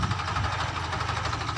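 A tractor engine runs steadily in a farming village while the tractor is driven out, giving a close, low, even rumble with a throbbing beat.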